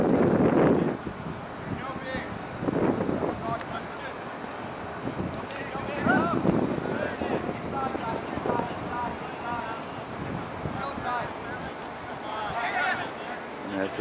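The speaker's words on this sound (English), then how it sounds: "It's too much wind." Strong wind gusts buffet the microphone at an outdoor ultimate frisbee tournament field, a steady loud rumble throughout with a heavy burst at the start, while players shout and talk over it.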